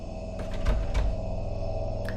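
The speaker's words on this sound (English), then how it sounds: "The door opens a little" A door in the Incantamentum video game opens a little, a short creak and soft knock over a low ambient hum, close and alone.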